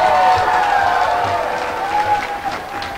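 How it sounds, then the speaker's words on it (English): Crowd at a high school pep rally applauding the cheerleaders, a broad wash of clapping mixed with cheering and some voices, loud and continuous for a few seconds. "Let's get a round of applause for the cheerleaders."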